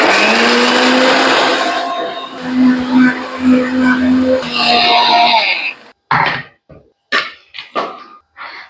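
A kitchen mixer grinder whirs loudly and steadily for about six seconds while blending sweet corn kernels into a thick paste without water, then cuts off, followed by a few short bursts of a voice.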